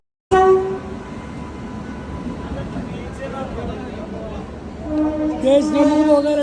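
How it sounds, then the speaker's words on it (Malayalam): A train rolls up to the platform with a loud, steady rumble, sounding its horn at the start and again near the end. "ട്രെയിൻ എത്തി"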